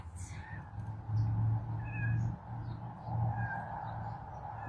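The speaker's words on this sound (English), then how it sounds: "That's the mama kitty calling her babies." A mother cat meows over and over in long, drawn-out calls for her kittens, fairly close, with birds chirping faintly in the background.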